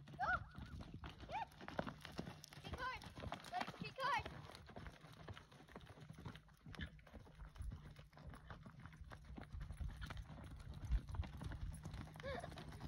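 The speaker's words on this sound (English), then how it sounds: "The Lakely Blue riding by herself" Hooves of a ridden horse clip-clop in a loose rhythm at some distance, with outdoor voices talking over the sound.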